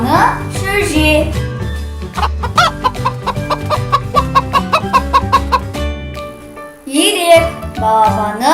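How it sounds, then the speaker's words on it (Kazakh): Chicken chick sounds in a farm-animal sound sequence, a rapid run of bright cheeping notes amid music, with a voice speaking at the start and end. "Тауық балапаны шөже."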